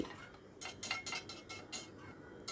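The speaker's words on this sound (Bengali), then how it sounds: "আমি এবার ভেজে রাখা কাতলা মাছের পিসগুলো এর ভেতর দিয়ে দিলাম দিয়ে সব কিছু খুব ভালো করে মিশিয়ে নিচ্ছি" Fried katla fish pieces being stirred into a fish curry in a pan, with a series of sharp metal spoon scrapes and clinks against the pan, close and rhythmic.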